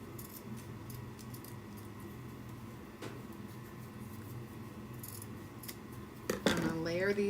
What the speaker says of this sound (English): I'm going to take my ribbons and I'm going to dovetail cut